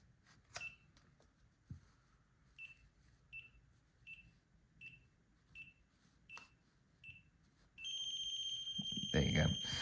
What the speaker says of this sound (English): you would slowly move it, and you should hear it beep faster